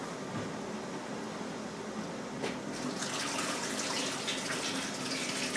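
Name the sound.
water pouring into a pot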